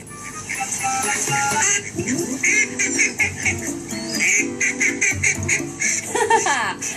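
Ducks quack repeatedly in loud, raspy bursts, mixed with honking calls and background music.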